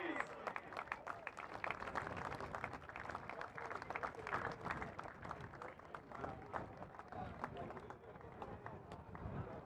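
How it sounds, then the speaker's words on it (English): Applause for a juvenile football team and its backroom staff at a county final presentation, a steady dense wash of clapping from a crowd lasting several seconds, with voices mixed in beneath. "Can we give them all a round of applause, please?"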